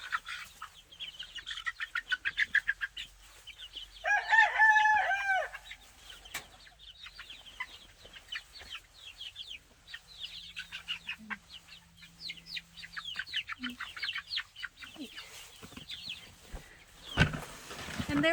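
A flock of chickens and roosters clucks, squawks and calls in a newly finished hoop coop, with repeated bursts of close, busy chatter and occasional wing flapping near the end.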